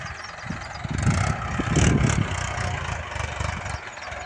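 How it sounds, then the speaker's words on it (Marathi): A tractor sows soybean in an open field, its engine holding a steady, close rumble that swells slightly in the middle before settling back to an even drone. "बघा पेरा ट्रॅक्टर फिरला बघा."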